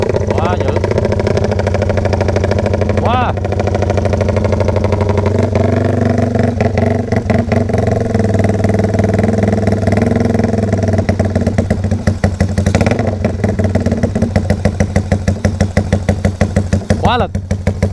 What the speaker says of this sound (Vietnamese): bây giờ anh em mình sẽ test cho mọi người nghe cái tiếng bô ha